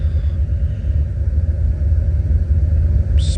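A car engine with a mild cam and an HP Tuners tune idles steadily, a loud continuous low rumble with a slight lope, nearby and alone, with a brief faint higher squeal at the very end.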